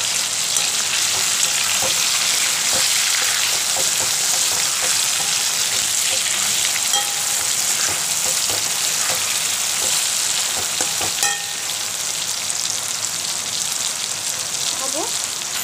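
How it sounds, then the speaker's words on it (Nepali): Garlic sizzles in hot oil in a chicken and soyabean dish, giving a steady, crackling fry with brief spatters throughout, fairly close and even in level. "फेरि फ्राई हुन्छ चाहिँ मैले अघिको लसुन एड गरिदिन्छु"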